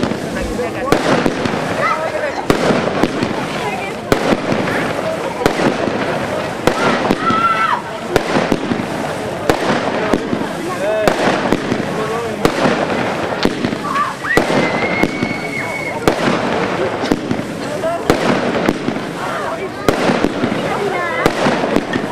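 A rapid sequence of loud firework shots bursting one after another, a 19-shot Explode No Limit cake barrage with crackling pops throughout.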